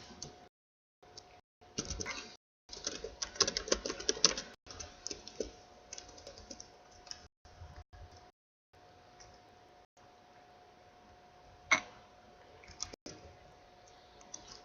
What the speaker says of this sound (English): So I'm just typing something on Skype.